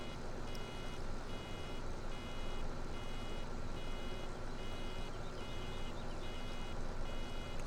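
Baler full warning beeper sounding in Farming Simulator 17, a steady run of regular repeating beeps layered over a constant loud tractor and baler engine drone throughout.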